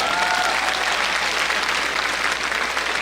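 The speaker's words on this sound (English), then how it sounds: "Give them a round of applause." Steady applause fills a hall at a university commencement ceremony in Jamaica, a dense, even wash of clapping from a large seated audience lasting throughout.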